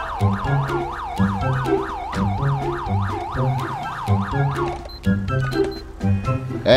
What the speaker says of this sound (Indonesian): Kita matikan sirine ya.